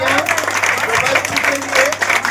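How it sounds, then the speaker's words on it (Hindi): Loud, close applause from the audience at a women's honour ceremony for International Women's Day in Varanasi, sustained clapping mixed with voices and cheering. "एक बार जोरदार तालियां"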